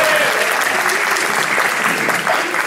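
An audience at the Arkansas State Fiddle Championship gives a dense, steady round of applause. The clapping stays full and loud from start to finish, with no voices above it.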